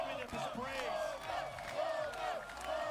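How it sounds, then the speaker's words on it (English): At a fighting game tournament, a large crowd roars and cheers for the winner, a loud, sustained mass of yelling and whooping voices that carries on steadily throughout. "The crowd, of course, giving him his praise."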